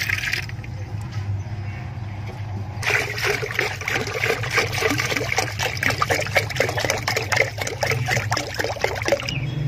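Water trickles and splashes steadily as it is poured into a drinker for chickens, starting quietly and growing fuller after a few seconds, with a low hum running underneath.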